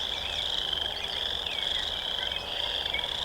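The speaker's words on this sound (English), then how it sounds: "simply to be in silence and listen to the frogs" Frogs croaking in an evening chorus, a dense steady trilling drone with overlapping calls, moderately distant and continuous without any voices.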